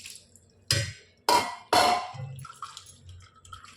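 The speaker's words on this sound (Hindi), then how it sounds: "इस तरह से इसको छान लेंगे, ऊपर नीचे कर लेंगे ताकि इसका पानी सारा निकल जाए" Boiled noodles for vegetable Hakka noodles drain in a strainer after a cold-water rinse. Three loud splashing pours arrive in quick succession, followed by softer trickling and dripping.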